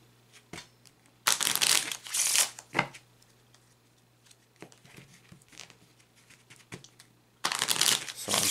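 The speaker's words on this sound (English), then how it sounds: "as I shuffle the cards" A deck of cards being shuffled close up in two bursts of riffling, separated by quieter handling and soft taps.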